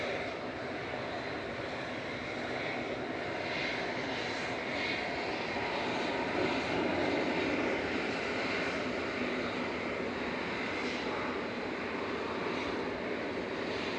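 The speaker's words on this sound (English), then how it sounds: "Emirates Flight 22 heading back to Dubai, A6EOX" An Emirates jet airliner on departure from Manchester Airport as flight 22 to Dubai gives a steady, broad engine roar that holds at an even, fairly strong level with a slight swell mid-way, wind-blown dust noise blended in, no voices.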